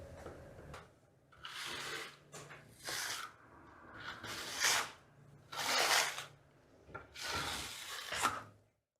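A trowel smooths a first coat of Vasari Marmorino plaster, making soft scraping and rubbing strokes that come in about six slow sweeping passes, quiet and close, with no talking.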